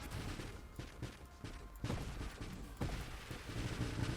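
Player ship in the space shooter Nova Drift launching missiles, a dense barrage of punchy synthetic blasts and booms overlapping continuously at close range with no talk.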